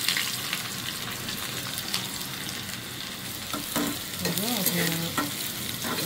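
Onion, garlic and whole cumin frying in oil for a lentil tempering, a steady close sizzle and crackle running throughout with brief stirring scrapes, no voices.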